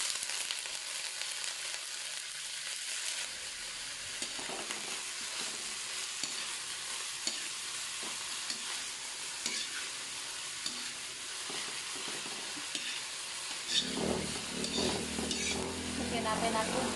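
Potatoes sizzle and fry steadily in a pan for adobong sigarilyas, with stirring scrapes throughout and the sizzle growing louder and fuller toward the end.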